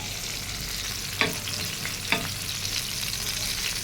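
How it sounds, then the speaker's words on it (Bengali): Eggplant pieces fry in oil in a pan with a steady, quiet sizzle, and two brief stirring scrapes stand out against it. "বেগুনগুলো আমি ভাজতে দিয়ে দিছি"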